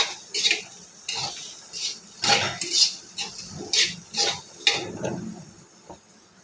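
A spoon scrapes and clinks against a pan while carrot fry is stirred, giving a series of uneven bright metallic scrapes about every half second, close and fairly quiet.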